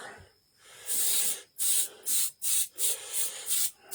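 Short bursts from a spray gun or airbrush mist light brown paint over a werewolf figure, about seven sharp hissing spritzes in quick, uneven succession with brief silent gaps between them, close and clear.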